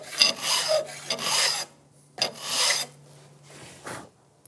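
A metal file rasps across the teeth of a rip saw being sharpened, about five close, scratchy strokes in an uneven rhythm with short pauses between them.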